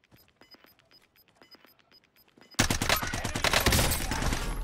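Heavy gunfire erupts in Call of Duty: Warzone Rebirth Resurgence, a burst of sustained, loud fusillade after quieter scattered shots and footsteps, with no talk over it.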